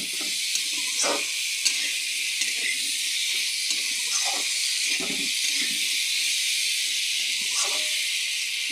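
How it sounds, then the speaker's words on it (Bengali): Ridge gourd pieces fry in a spiced masala, giving a steady close hiss and sizzle throughout, with a few soft stirring knocks and scrapes now and then. "এবার দিয়ে দেবো এই সবজিগুলো ভেজে দেবো"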